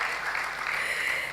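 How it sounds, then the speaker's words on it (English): An audience at a formal launch event applauds warmly, a dense and even wash of clapping that holds steady without pause or voices. "I think we can make the applause warmer"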